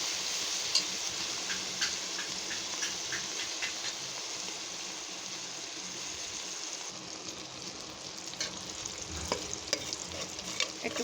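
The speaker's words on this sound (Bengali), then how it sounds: "হলুদের গুঁড়া, মরিচের গুঁড়া, একটু রাঁধুনি মাংসের মশলার গুঁড়া দিয়ে রসুন দিয়ে একসাথে ভাজা ভাজা করে নিচ্ছি" Turmeric, chili powder, meat spice mix and garlic fry together in a pan, giving a continuous loud sizzle with scattered clicks of a spatula stirring. No one speaks.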